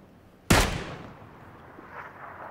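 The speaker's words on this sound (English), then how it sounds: "Shot him right in the head, man." A single loud, sharp gunshot from the PUBG battle royale game cracks close by, then decays into a long faint echoing tail.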